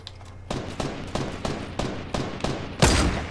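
Gunfire in the battle royale game Fortnite: a steady series of sharp cracks about every third of a second, close and punchy, ending in a louder, heavier blast.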